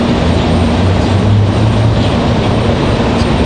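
An Icelandair airplane at Raleigh Durham airport drones loudly and steadily, its engine roar filling the air without letup and with no voices.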